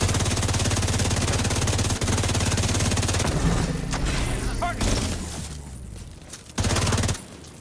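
Rapid concentrated gunfire in a skill-build video game, a dense loud burst of repeated shots that thins out midway and then flares again briefly near the end, with a voice talking over it.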